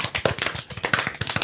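A small group claps in quick, uneven double time, the overlapping sharp slaps scattered irregularly to imitate the roar of applause from a much bigger crowd.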